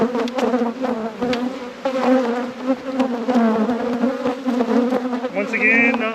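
Honeybees swarming around an open hive during a deep spring inspection after winter, a dense, continuous buzzing close to the microphone with individual bees droning louder as they pass near.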